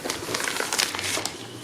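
A plastic bag holding scraps of patterned paper and 6x8 sheets is handled up close, giving a continuous crinkly rustle with small crackles throughout.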